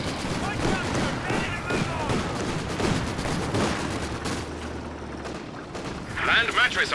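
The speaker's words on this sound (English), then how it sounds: "The Vickers actually suppresses the squad that was making a run for it." A Vickers machine gun in Company of Heroes 2 rattles in sustained bursts amid battlefield gunfire, with a commentator talking over the shooting throughout.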